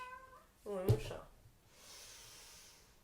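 A cat during a yoga routine gives a single short meow up close, followed by faint breathing and room hiss.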